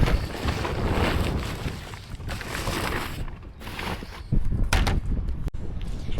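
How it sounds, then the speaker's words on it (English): Wind gusts blow hard outdoors around a farmyard chicken coop, buffeting the microphone in a continuous roar with a few sharp knocks and flaps near the end, no speech. "It's getting quite windy out."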